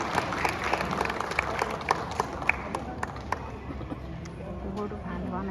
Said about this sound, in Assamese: হাত চাপৰি হ'ব লাগে দেই জোৰকে